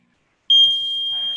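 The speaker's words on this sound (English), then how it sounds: "That's just the timer." A timer alarm sounds after a brief silence, a single loud, sustained high-pitched electronic tone that holds steadily to the end.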